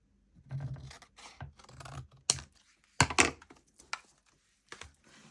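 Scissors trimming a steampunk-style paper tag for a junk journal, with close, crisp irregular snips and scratchy cuts in uneven bursts separated by short quiet gaps.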